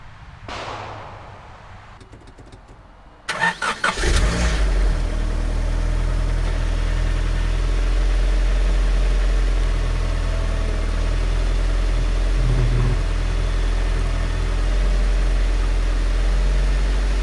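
A Honda Prelude with freshly repaired power steering cranks briefly and catches, then settles into a steady, close idle with a deep rumble that holds evenly for over ten seconds, with no voices.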